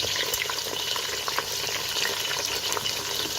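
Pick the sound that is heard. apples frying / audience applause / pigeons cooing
apples frying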